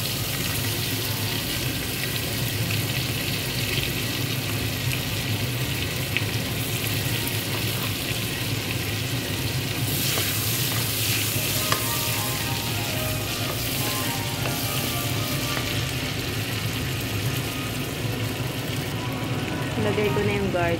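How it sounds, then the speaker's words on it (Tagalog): Garlic frying in butter in a pan, a continuous loud hissing sizzle that stays steady and dense from start to finish, close up. "Gusto kong tinutusta tong garlic."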